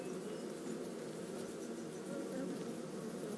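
Bees buzzing around hives in the video game Farming Simulator 25, a steady soft insect drone with a continuous hum and no other sounds over it.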